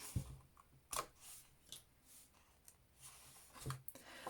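Scissors snipping diagonally through a 6x6 sheet of Stampin' Up! designer series paper, a few soft close cuts spaced out across the stretch, quiet and with no talking.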